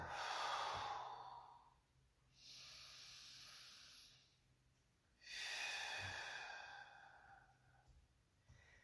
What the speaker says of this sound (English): we'll take about 5 nice, really long breaths here